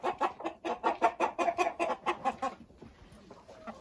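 A rooster clucks in a rapid, rhythmic series of about a dozen close, sharp calls that trail off into quiet farmyard background.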